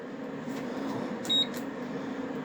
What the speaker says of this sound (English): And it's beeping for some reason.